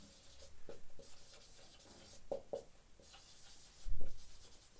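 Chalk or marker strokes scratch across a board during a school geography lesson, coming in short scraping bursts with a few sharper taps, close by and moderately loud, with no talking.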